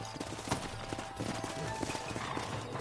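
Horse hooves clip-clop at a steady walking rhythm in the Western video game Red Dead Redemption, fairly close and moderately loud over a rumbling outdoor ambience, with a brief louder knock early on and no talk.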